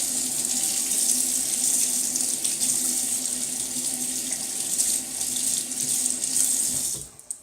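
Tap water running steadily and loudly into a sink while a Gem Clog-Pruf safety razor is rinsed, a continuous close splashing rush that stops abruptly near the end.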